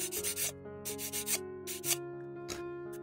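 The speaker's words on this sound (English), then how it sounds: "just grab the file and just get rid of those little knobs" A metal file rasps over small plastic knobs on a model build in short, close strokes, in several bursts with brief pauses between them and a steady background hum underneath.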